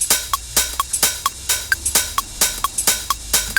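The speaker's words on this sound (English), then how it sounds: "I've got 3 hat loops in this track." Three hi-hat loops layered together in Ableton for a house track, a fast steady pattern of crisp, bright ticks and hissing open hats with small tonal pings, loud and close, with no voices.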